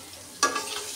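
Quartered onions dropped into hot oil with garlic burst into a sudden, close sizzle that hisses on steadily after the initial splash.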